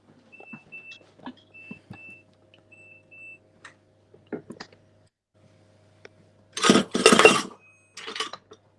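Potato wedges get turned over in a pan with light metallic clicks and clinks, a timer beeps a few times in the background, and then comes a loud scraping sizzle burst near the end.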